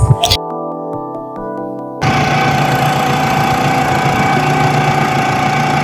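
A small Kohler engine runs with a steady, rattling drone after a brief burst of other sounds at the start, close and fairly loud.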